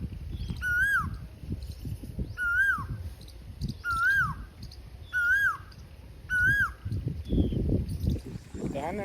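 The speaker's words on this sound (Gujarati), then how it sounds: "કોયલ ટવકા કરે" Asian koel calling repeatedly in a village setting, five or six rising whistled notes spaced about a second apart, clear and fairly near over low rumbling background noise.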